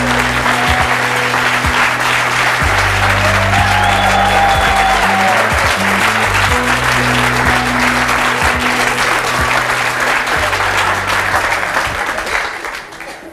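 A studio audience claps loudly and steadily for striptease and go-go dancers, a dense sustained round of applause over a low musical bed that tapers off at the end.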